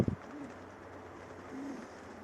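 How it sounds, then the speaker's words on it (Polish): A racing pigeon beside its hen coos softly twice, low and fairly close, after a brief knock at the start, with faint background hum and no talk. "Piękny gołąb swoją samiczką."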